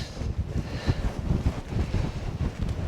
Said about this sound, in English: That sort of wind, it's just unforgiving